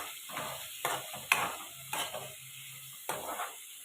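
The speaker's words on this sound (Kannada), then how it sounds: "ಈರುಳ್ಳಿ ಹಾಕ್ಕೋಬೇಕು ನೋಡಿ. ಎಣ್ಣೆ ಚೆನ್ನಾಗಿ ಬೇಯ್ತಿದೆ." Onions sizzle in hot oil for palak palya, a soft steady fry broken by several sharp scraping clatters of a spatula stirring against the pan, close and moderately quiet.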